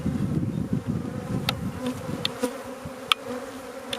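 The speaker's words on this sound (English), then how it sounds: "Get out of the way, little bees." Bees buzz around frames being moved in a weak hive, with a close, uneven drone broken by a few sharp clicks and knocks from handling.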